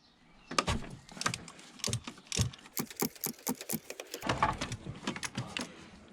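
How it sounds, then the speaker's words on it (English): A ratchet wrench clicking as it loosens a spark plug on a BMW E60 M5, a quick series of close, crisp metallic clicks in uneven bursts with short pauses. "we'll get our ratchet on there and we'll get her undone"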